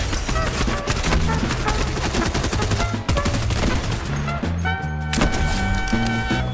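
Rapid bursts of explosive repeater rifle fire crack through a video game, dense and loud over a background music bed, with a short pause in the middle before the shooting resumes.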